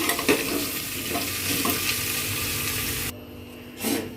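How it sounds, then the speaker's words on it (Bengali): Carrot frying in ghee while being stirred, a close, bright sizzle with scraping stirs throughout, then a sudden drop to a quieter hiss near the end with one last clatter. "এখন গাজরটাই ঘিয়ের মধ্যে দিয়ে দেবো তো এটা একটু ঘিয়ের সঙ্গে হালকা করে একটু ভেজে নেব"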